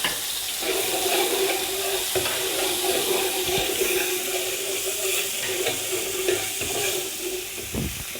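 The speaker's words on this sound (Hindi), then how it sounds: "घी को मैंने गरम कर लिया और इसके अंदर मैं प्याज डालूँगा।" Onions frying in hot ghee for mutton paya curry, a loud, steady close sizzle and crackle with occasional stirring scrapes throughout.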